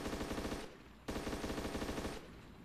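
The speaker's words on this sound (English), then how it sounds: "Riddick responds with this machine gun, takes out Hansa" Machine gun fire in a competitive first-person shooter match, two long, loud, rapid-fire bursts of evenly spaced shots, each lasting about a second, close and dominant with no voices.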